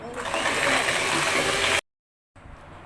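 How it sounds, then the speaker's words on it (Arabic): An electric mixer beats eggs with sugar and vanilla for a buttermilk cake, giving a loud, steady motor whir that cuts off abruptly, then quieter kitchen noise after a short silence. "السكر مع البيض احسن لما انت تضربيه مع بعض"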